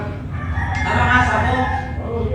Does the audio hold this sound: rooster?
yes